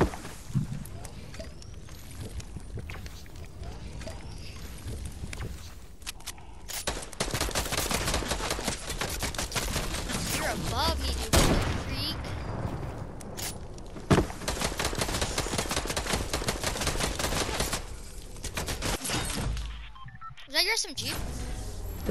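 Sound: SMG gunfire in a video game

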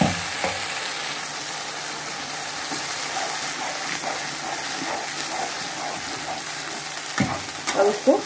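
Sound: frying onion, ginger, green chili and mustard paste in oil

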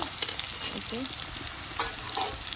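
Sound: vegetables frying in oil

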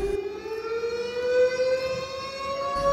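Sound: siren

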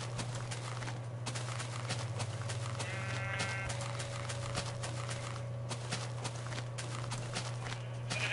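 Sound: sheep bleating in Minecraft video game

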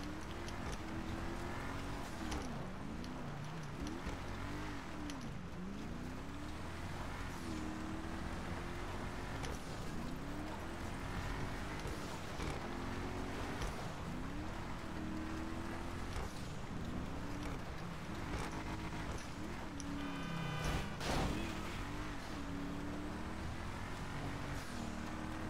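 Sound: car driving in the snow in video game GTA 5

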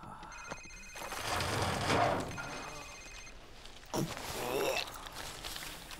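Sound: cell phone ringing in the video game Call of Duty

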